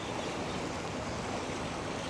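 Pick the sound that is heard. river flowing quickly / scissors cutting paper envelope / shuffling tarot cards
river flowing quickly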